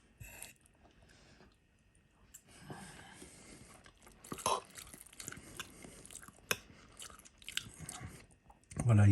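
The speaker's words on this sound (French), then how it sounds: "Donc, le poisson, on va goûter le poisson." Chewing and biting while tasting fish from a paella, soft crunchy and moist bites heard close up, with a person talking at times over them.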